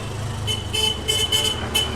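Roadside traffic passes near a bus stand, with a steady engine and road hum under several short, repeated car horn toots spaced through the moment.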